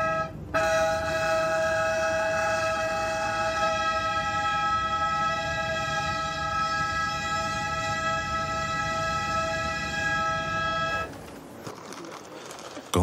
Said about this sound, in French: Et c'est là qu'on va commencer à klaxonner surtout.